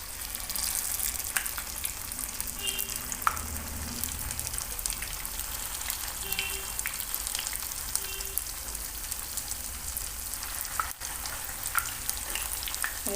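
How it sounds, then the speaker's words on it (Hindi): Vada shallow frying in a modest amount of hot oil for a vrat meal, giving a steady, continuous sizzle and crackle throughout with faint scattered pops, fairly close and with no talking. "अब इसके अंदर हम वड़े को डालेंगे।"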